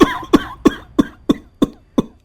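A cartoon man coughs up blood in seven harsh, evenly spaced coughs, each short and loud with a quick fade, and no talk between them.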